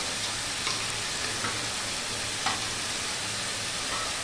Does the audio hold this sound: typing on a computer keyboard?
no